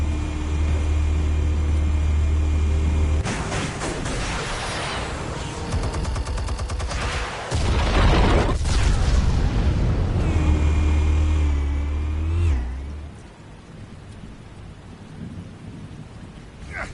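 Explosives going off in a Batman video game: heavy, rumbling blasts roll out loud and close over a steady low hum, a long stretch of crashing booms that thins out and fades near the end.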